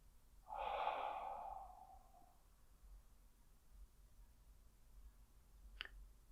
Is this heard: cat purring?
no